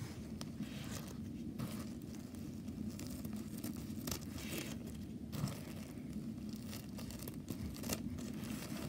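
Scissors cutting through a plastic bag: soft crinkling and snipping rustles with a few sharper cuts, close and quiet, with no talking.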